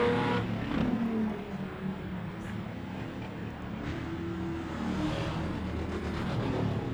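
Superstock race cars roar around an oval track at a teams invitation meeting in Huntly, a dense, continuous engine drone with rising and falling revs from several cars passing at middle distance.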